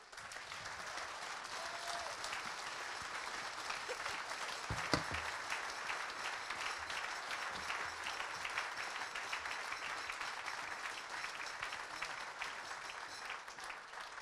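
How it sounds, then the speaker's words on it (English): Steady, moderately distant applause from an audience at a charity event supporting Depaul UK homeless services, a continuous wash of clapping without talk. "Give her another round of applause, ladies and gentlemen"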